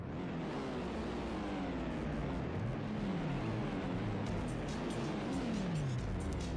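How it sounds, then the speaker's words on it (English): A race car in the PC racing game Need for Speed: High Stakes roars steadily, its engine pitch climbing and falling through repeated revs and gear shifts over a constant loud drone, with no voices. "start without revving it all away"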